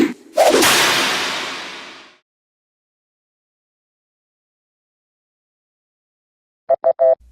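A wrestling entrance theme opens with a whip-crack effect: a single sharp, loud crack followed by a long decaying swoosh, then silence, with a brief burst of music at the very end.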